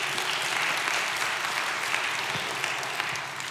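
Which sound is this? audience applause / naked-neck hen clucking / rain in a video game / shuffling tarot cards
audience applause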